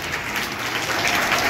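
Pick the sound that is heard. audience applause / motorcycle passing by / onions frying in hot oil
audience applause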